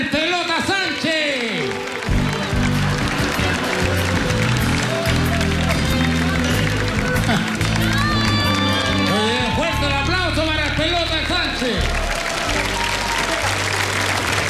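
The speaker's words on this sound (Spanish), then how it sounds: "el Pelota Sánchez, para quien pido un cálido aplauso." A large television studio audience at a telethon comedy sketch applauds and cheers as a mascot comes on, with dense continuous clapping, whoops and crowd noise, and voices calling out over it.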